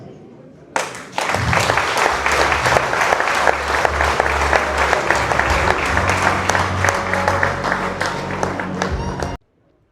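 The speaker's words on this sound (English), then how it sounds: "Thank you for giving Ian a round of applause." An audience at the opening ceremony of a shore angling championship bursts into sustained, dense applause, many hands clapping steadily for several seconds before it cuts off abruptly.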